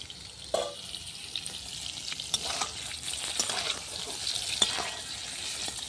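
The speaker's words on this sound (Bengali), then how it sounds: "পটলটা লাল করে ভেজে নেবো" Pointed gourd (potol) frying in oil over a clay stove, a soft steady sizzle with occasional stirring clicks and scrapes, fairly quiet and close with no talk.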